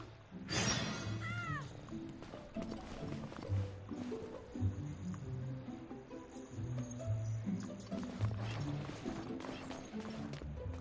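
A cat in Genshin Impact gives one clear, high meow near the start, then softer fragmented calls follow among game effects and low rhythmic background sounds.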